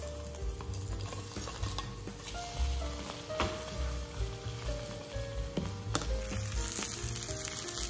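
An egg sizzles and spits steadily in a non-stick pan, a constant close frying hiss broken by occasional light clicks of a utensil.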